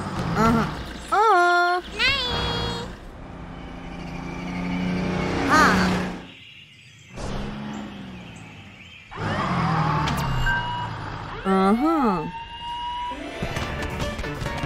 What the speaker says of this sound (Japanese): アラームだぞ。